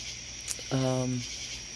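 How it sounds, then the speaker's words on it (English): Crickets chirp outdoors at midnight, a loud, steady high-pitched drone running through the whole stretch, with a short voiced hum breaking in near the middle. "Oh god, the crickets are loud."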